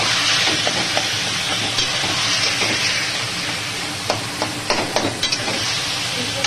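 Previously boiled taro leaves fry in a wok with a steady, close sizzling hiss and occasional sharp crackles and stirring scrapes near the end.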